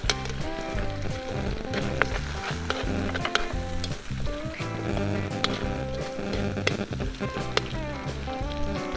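Onions sizzle loudly in a pan, reusing the fat left from cooking pork liver, with steady crackling frying noise and occasional sharp clinks of a utensil throughout.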